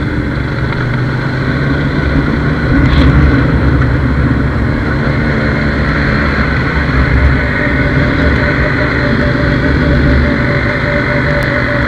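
A 1988 Yamaha RX 100 motorcycle engine runs loud and close, a steady buzzing two-stroke drone with dense low rumble that holds for the whole stretch, no voices over it.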